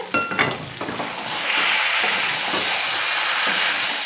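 Fish fries in oil on a high gas flame: a few clattering pan knocks at first, then a loud, steady sizzle that fills the rest.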